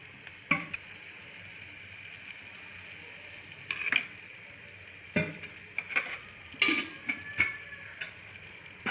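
Maghaz (goat brain) masala fries in ghee in a pan, a steady close sizzle broken by repeated scraping stirs of a spoon against the metal.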